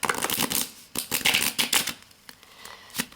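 A thick stack of tarot cards riffle-shuffled close by, in quick crisp bursts of fluttering clicks separated by short pauses and softer handling sounds.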